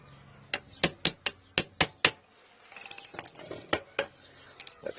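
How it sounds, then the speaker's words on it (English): A hammer tapping a screwdriver against the universal joint cups of a Triumph Spitfire 1500, a quick run of sharp, ringing metallic strikes, then more scattered, lighter knocks and clinks up close. "give them a tap with the hammer and a screwdriver"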